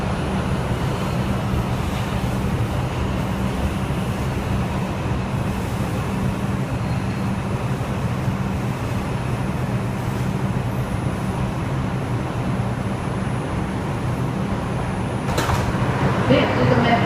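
Interior of an R142 New York subway 5 train running between Beverly Road and Sterling Street: a steady, loud low rumble of wheels and motors throughout, with a faint high whine overhead.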